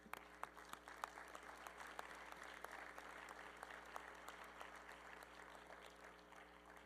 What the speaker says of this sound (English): Et pour cela, je vous demande de l'applaudir.